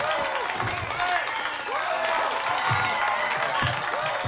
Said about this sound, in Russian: Толпа восторженно хлопает.